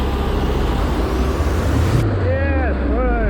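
A tractor roars close past a cyclist on a rural road, a loud low engine rumble rising and sweeping by, with wind noise and a few whistling tonal sweeps near the end.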